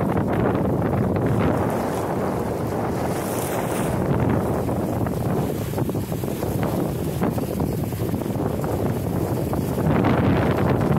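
Steady wind roars and buffets the microphone throughout while a Compac Legacy sailboat heels under sail, with the rush of water along the hull mixed into the continuous, loud blustery noise.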